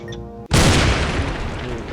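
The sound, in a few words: bomb exploding in the video game Keep Talking and Nobody Explodes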